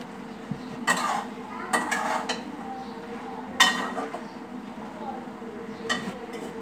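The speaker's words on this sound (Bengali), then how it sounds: "এগুলো আমি ভালো করে মিশিয়ে নিই।" A spoon scrapes and clinks against a pan while stirring a chickpea mixture, giving a few sharp metallic knocks spaced irregularly over a low background hum, close and moderately loud.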